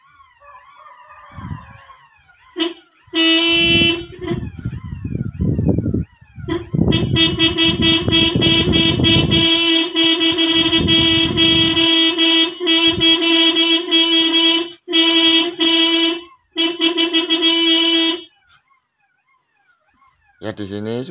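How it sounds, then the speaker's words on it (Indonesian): A Toyota Kijang car horn, tested after repair by wiring it directly, blares in bursts: a short toot, then a long sustained honk, followed by a few more short blasts, with someone talking in the pauses. "Ternyata klaksonnya masih hidup, sudah bisa hidup."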